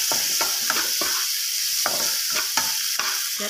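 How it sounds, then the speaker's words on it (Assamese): Onions sizzle in hot oil with salt and turmeric in a pan for a ridge gourd and egg dish. A steady close crackle is broken by repeated sharp scrapes of stirring, and nobody speaks. "লাল হোৱাকৈ ভাজিম"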